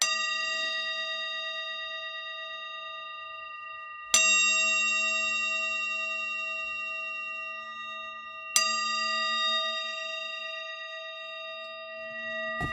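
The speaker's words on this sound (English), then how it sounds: "Should we ring our bells?" Hand bells struck three times, each clear metallic ring sounding close and alone with a long sustained ringing tone that slowly fades before the next strike.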